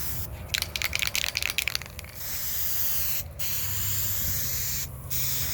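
A spray can of clear coat laying a coat onto the quarter panel of a 1985 Corvette Z51: sharp bursts of close hissing at first, then a long steady spray that breaks off briefly twice, with no talking.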